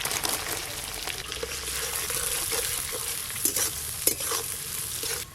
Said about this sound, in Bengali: এবার ওই তেলে পেঁয়াজ কুচিগুলো দিয়ে দেবো।